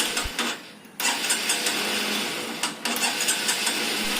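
A motorcycle left unused for over a month during lockdown being started, the engine cranking and catching into a rough, busy mid-pitched running noise with two brief cut-outs, close and loud, no voices.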